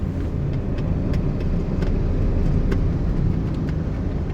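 A car on a driving-lesson drive, shifting into fourth gear, gives a steady, loud engine and road rumble from inside the cabin with faint ticks, no voices.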